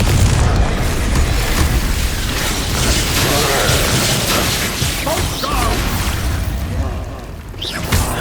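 Confringo fire-blast spells burst in repeated booming explosions during combat in Hogwarts Legacy, layered with dense magical crackle and clatter that stays loud and continuous throughout.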